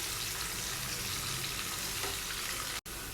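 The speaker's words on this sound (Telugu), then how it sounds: "చూడండి ఇలా మధ్య మధ్యలో మిక్స్ చేస్తూ ఫ్రై చేసుకోవాలండి" Tempering spices frying in a pan for beetroot fry, a dense continuous sizzle with faint stirring scrapes, short and unbroken apart from a brief dropout near the end.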